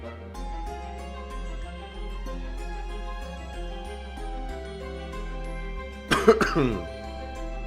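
A short burst of harsh coughing breaks in near the end over soft, steady background music.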